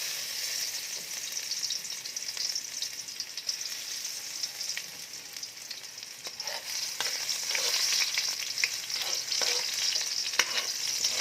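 Garlic fries in hot oil in a pan, a steady hissing sizzle that swells toward the end, dotted with occasional stirring clicks, close and alone.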